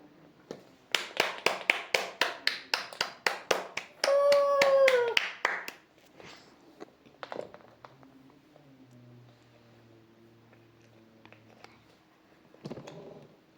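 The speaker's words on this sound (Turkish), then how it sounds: "Hepiniz alkışlasın." A small group claps in a steady rhythm for a few seconds, close and fairly loud, with a voice rising over it before the room settles into quiet murmurs.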